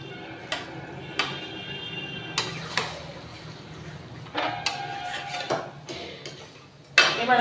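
A lid is set over a pot of cooking chicken with light metallic taps and clinks, a ringing scrape partway through, and a louder clatter at the end.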